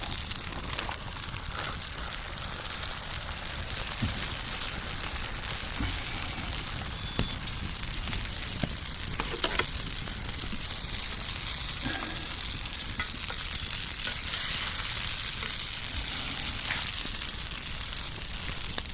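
Pork sausage, chunked bacon, scrambled eggs and ham sizzle in a pan over a campfire, a loud continuous crackling fry with occasional stirring scrapes and pops, close and steady throughout.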